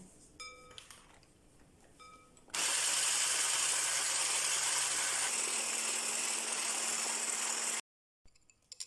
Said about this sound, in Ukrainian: збиваємо міксером до світлої пухкої маси